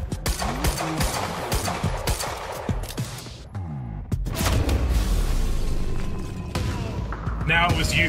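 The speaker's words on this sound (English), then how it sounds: "They're not afraid to throw those grenades" Booms and rapid gunfire fill a chaotic Quantum Break combat scene where enemies throw grenades, with loud explosive bursts and clattering shots layered under talk from a voice.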